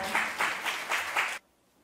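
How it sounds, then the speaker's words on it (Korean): Audience applause greets a singer's congratulatory performance opening a book concert for an author's first short-story collection, a dense wash of clapping with slight swells that cuts off abruptly into silence. "큰 박수로 무대로 알려주십시오."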